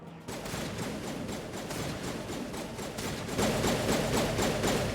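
Sustained rapid gunfire rattles in Mass Effect, a fast repeating stream of shots that grows louder toward the end, with no clear separate explosion standing out.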